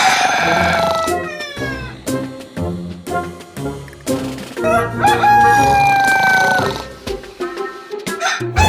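Rooster crows loudly in a Filipino Flipaclip animation, two long drawn-out calls separated by choppy clucking and sharp clipped sounds.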